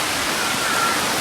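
A stream rushing past in a forest, a steady loud broadband wash of flowing water close by and alone.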